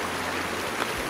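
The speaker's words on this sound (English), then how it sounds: "Second big creek crossing of the day." Creek water rushing steadily and close by during a hike crossing, a continuous broadband flow with a brief splash near the end and no talking.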